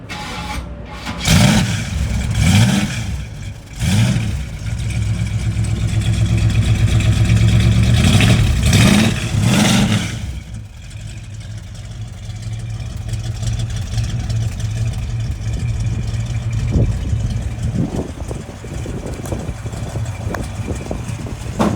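A 1967 Chevrolet Camaro engine cranks and catches with a few loud rumbling bursts, then settles into a steady idle that runs on, close by.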